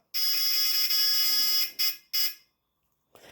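A small electronic buzzer soldered onto a vero board hobby project gives a loud, shrill continuous tone for about a second and a half, then two short bursts and a faint final blip, with no talk over it.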